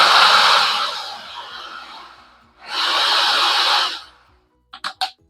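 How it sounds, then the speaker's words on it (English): A food processor chops strawberries in two loud whirring pulses of a few seconds each, separated by a short pause and followed by a few faint clicks and clatters. "I go ahead and I chop my strawberries up in my food processor"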